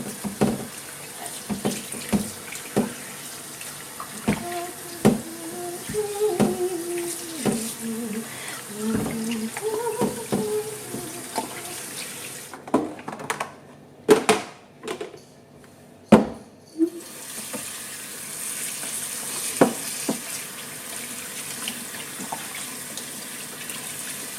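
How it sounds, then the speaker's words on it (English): Water runs from a tap into a sink while cured meat for ham and pastrami is rinsed and soaked. The stream splashes unevenly and there are knocks and handling clatter, then the flow stops briefly before it resumes. "Now it's going to be rinsed and soaked in water."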